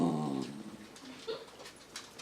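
A Basenji dog gives a brief, nasal, high whimper at the start, followed by a few faint little whines and squeaks in a quiet room.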